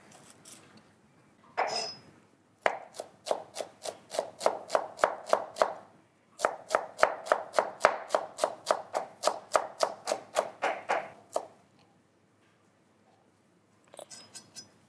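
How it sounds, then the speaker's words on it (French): A knife chops a shallot finely on a board: a single knock, then two long runs of quick, evenly spaced crisp taps separated by a brief pause, close and clear, followed by a few faint clinks at the end. "Je vais éplucher une autre échalote et la ciseler pour pouvoir aussi la mettre dans la farce."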